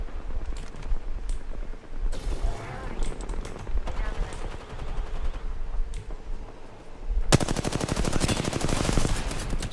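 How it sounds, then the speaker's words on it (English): Gunfire in the Apex Legends video game: scattered shots and noisy game action give way to a loud, sustained rapid-fire automatic burst over the final few seconds. "Opening fire on the enemy."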